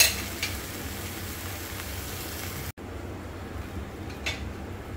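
A pizza uttapam topped with vegetables fries in a pan, giving a steady, soft hiss of sizzling oil that continues unbroken apart from one brief cut partway through.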